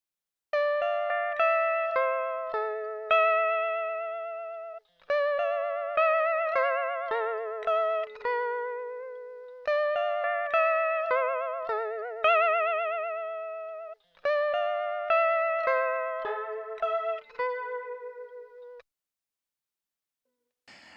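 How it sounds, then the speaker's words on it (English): Clean guitar melody with a pronounced wobbling, warbling pitch from RC20 pitch automation, phrases repeating in bursts before fading to silence at the end. "create cool wobbly pitch automation effects with RC20"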